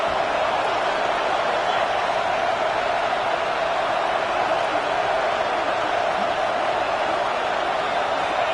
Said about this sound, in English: Guns up, and so is the noise. The crowd electric, trying to help Tech on this 3rd down.